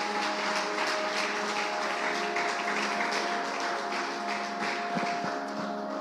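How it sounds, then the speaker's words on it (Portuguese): Church congregation claps for the Lord near the end of a worship service, sustained mid-distance applause with a steady sustained tone running underneath and a few brief thumps toward the end. "Você pode aplaudir o Senhor mais uma vez?"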